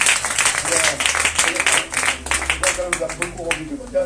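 Church congregation applauding during a Sunday service, a dense patter of clapping that rises and falls across the clip while someone speaks over it on a microphone.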